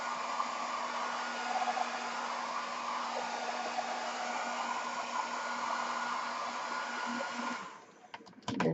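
A hair dryer blows steadily and close by, drying paint on a journal cover with a constant whooshing hum, then the airflow shifts and cuts out near the end, followed by a few handling knocks.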